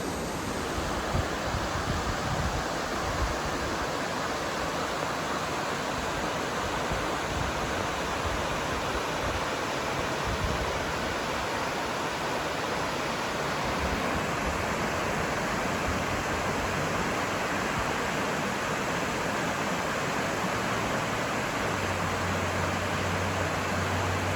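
The waterfall at Falls of Blaine Creek in Fallsburg, Kentucky, pours as a loud, constant broadband rush of falling water, close and unbroken throughout.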